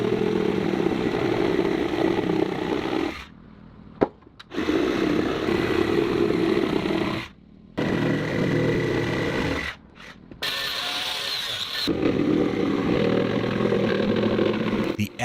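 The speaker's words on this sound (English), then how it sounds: "The extra wood extending from the upper rafters is being cut off." A power saw cuts surplus wood off the upper roof rafters of a wooden house, its loud, rough buzzing running in long bursts broken by several brief pauses.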